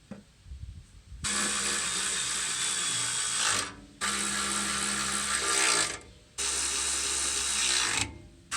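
Ratchet clicking in three long sustained runs with brief pauses between, tightening bolts on the skid plate of an 80 Series Land Cruiser, close and loud.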